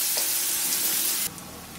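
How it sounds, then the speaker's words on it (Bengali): Chopped onion and ginger fry in a pan, giving a brief, loud, steady hiss that drops abruptly to a quieter sizzle partway through. "এখন এগুলোকে একটু নাড়তে থাকবো, হালকা করে ভেজে নেব পেঁয়াজটা"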